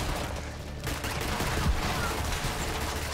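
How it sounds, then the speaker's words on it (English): Shotgun blasts boom in a Borderlands 3 fight, a dense, loud churn of overlapping gunfire and low thumps with no clear gaps, under faint voices. "I'm hitting him with shotguns"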